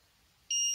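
A sudden, steady high-pitched electronic beep from a homemade copper detector circuit with a loose red wire clip starts after a short quiet pause and holds continuously to the end.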